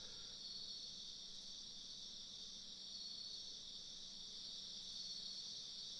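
Crickets chirp in a steady, unbroken high trill throughout a scene from the Final Fantasy VIII video game, with no talking over them.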